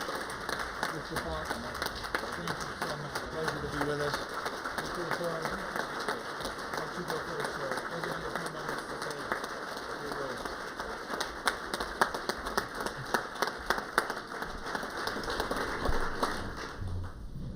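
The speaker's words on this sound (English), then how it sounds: "Once again, a great round of applause for these gentlemen." Meeting-room applause for golf professionals at a Colorado PGA fall membership meeting, a steady patter of many hands clapping across the room that swells slightly near the end, with a voice talking over it.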